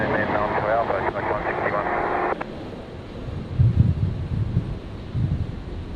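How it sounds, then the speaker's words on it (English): Distant airliner roar from an Airbus A320 bound for Canberra, a broad steady wash rising somewhat in the second half, while radio chatter and a voice talk over it near the start. "The 320 heading down to Canberra."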